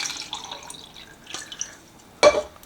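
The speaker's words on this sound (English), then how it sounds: "And then we're gonna add some water." Water poured into a cup while preparing watercolor painting, a few soft trickles and small drips followed by one louder splash near the end, close and otherwise quiet.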